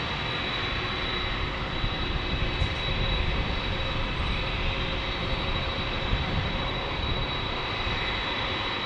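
An Embraer E175 jet airliner arriving at San Diego airport, a loud, steady, broadband engine roar with a persistent high whine, holding constant over several seconds with no talk.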